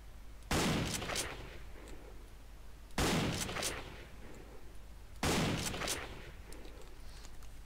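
Three heavy gunshot blasts from the video game Narodnaya Solyanka, each a sharp loud crack with a rumbling echo, spaced a couple of seconds apart.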